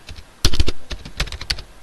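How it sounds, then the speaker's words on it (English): Rapid clicking of keys on a computer keyboard, close and alone, in uneven bursts of taps. "you can see whatever I'm typing"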